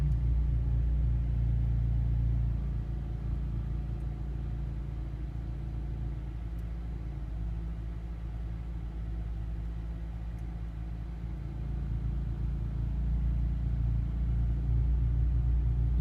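A 2005 Acura RSX Type-S engine idles on a cold start with a weak, surging idle, a steady low rumble that dips and then rises again, heard close without talking.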